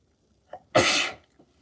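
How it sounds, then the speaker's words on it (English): A single close, loud sneeze bursts out after a short intake of breath, then quiet. "I'm going to sneeze."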